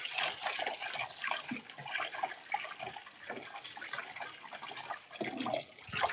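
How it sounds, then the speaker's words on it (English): Running water splashes and gurgles steadily over boiled noodles in a strainer, close and fairly loud throughout. "I'm going to dump the boiled noodles into the strainer. And you have to wash the noodles."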